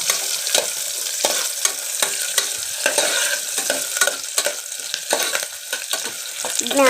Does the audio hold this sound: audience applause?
no